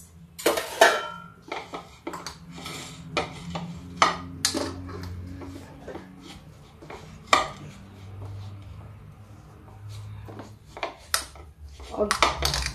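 Pea and potato kachori filling with ginger and salt is mixed in a bowl, a close series of irregular clinks and scrapes of spoon against the dish, with quiet gaps between.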